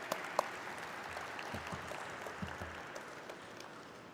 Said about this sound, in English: Can we have a good round of applause for Everest Industries?